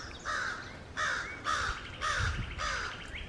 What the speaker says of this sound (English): the big black crow